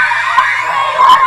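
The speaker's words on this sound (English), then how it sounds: "Thousands of screaming girls arrived at Luna Park to see the Janoskians." Crowd of thousands of teenage girls screaming at Luna Park for a boy group, a sustained high-pitched shrieking roar with a couple of louder peaks.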